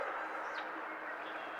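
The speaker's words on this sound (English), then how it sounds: "I keep hearing this singing." A faint, high, wavering song drifts through a quiet forest in an audio drama, a thin, distant call set over a steady soft hiss.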